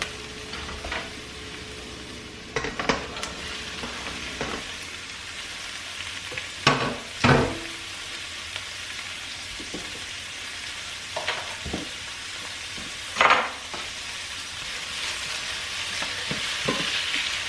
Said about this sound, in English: we're gonna go ahead and add our sausage.